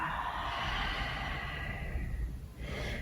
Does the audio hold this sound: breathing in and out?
yes